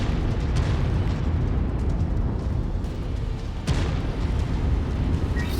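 Explosions destroying artillery in MechWarrior 5, a continuous rumbling blast roar, loud and dense, with a sharp fresh burst just past halfway that rolls on without talk.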